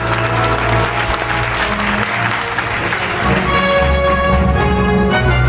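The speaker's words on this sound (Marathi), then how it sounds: "जोरदार टाळ्या झाल्या पाहिजे." Audience applause at a medical centre inauguration ceremony: loud, dense clapping from a crowd, continuous throughout, with music or tones and voices blending in underneath.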